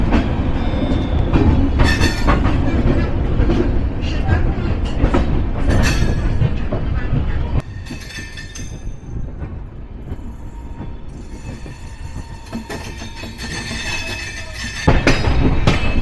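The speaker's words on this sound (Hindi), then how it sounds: "10:15 पे ट्रेन का डिपार्चर था और राइट टाइम हमें यहाँ से डिपार्चर मिल चुका है" A Dehradun Shatabdi Express rolls along just after leaving Saharanpur, heard from inside the coach as a loud continuous rumble and wheel clatter. The noise drops abruptly partway through, then surges back at the end.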